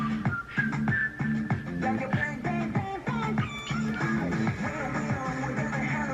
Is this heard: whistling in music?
yes